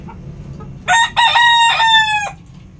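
An Alimbuyugen rooster crows once in a backyard, a loud, close, harmonic call with a short opening note followed by a long drawn-out crow over faint background noise.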